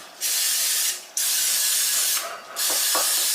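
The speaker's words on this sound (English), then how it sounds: "We're going to butter these pans." Cooking spray hisses onto cake pans in three bursts, each a close, loud, airy rush lasting under a second, separated by short pauses, with no talking.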